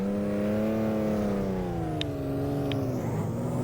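A Maserati 250F race car engine drones in a driving game, a sustained close whine whose pitch sags slowly and then climbs again, with a couple of brief high clicks partway through.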